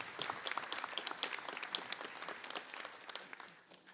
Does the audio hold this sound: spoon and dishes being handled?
no